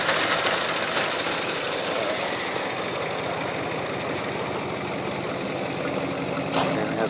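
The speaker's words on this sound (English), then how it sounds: "let you hear it run. Starts right up. That's the fuel injectors" A 1982 two-tone car idling with its fuel injectors firing, a continuous loud, close mechanical rattle and rumble with a rapid ticking rhythm and a short louder tick near the end.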